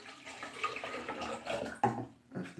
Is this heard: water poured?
yes